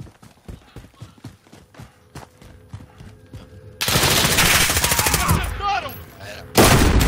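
Call of Duty gunfire starts as a rapid run of separate shots, then gives way to a dense, loud barrage of automatic fire with a sharp final burst.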